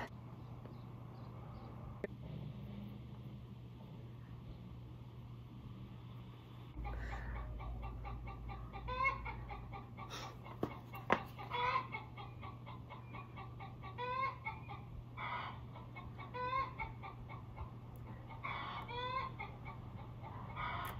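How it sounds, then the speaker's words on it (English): Chickens cluck in repeated short bursts at moderate distance over a steady low hum, growing busier in the second half. "We have chickens. And they are very loud."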